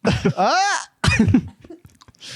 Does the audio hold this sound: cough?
yes